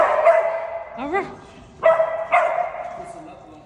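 A dog barks and yips close by in a few sharp bursts with a whining, rising tone between them, loud and clear with little else around.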